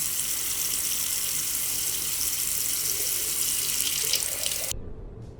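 A water tap running into a sink in Australia, a steady loud hissing gush that holds evenly for several seconds and then cuts off abruptly, leaving near silence.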